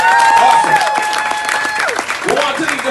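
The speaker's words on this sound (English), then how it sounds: "Can I get a resounding applause?" Wedding guests applauding together, a steady wash of clapping at close range mixed with voices and cheering throughout the short burst.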